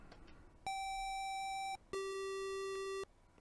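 Two different steady electronic tones from an Atari 8-bit computer, a higher note held about a second, then after a short gap a lower, louder note held about a second, both clean and buzzy with no talk.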